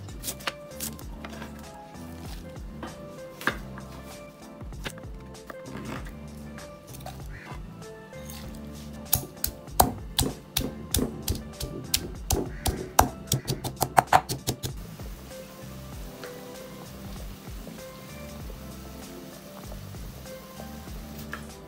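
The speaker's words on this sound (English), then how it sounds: "I'm then going to pound these three together in my pestle and mortar." Sugar, soy sauce and preserved cabbage pounded in a pestle and mortar, a series of soft, irregular, close thuds that quicken into a dense flurry of strikes before stopping, with a faint background bed throughout.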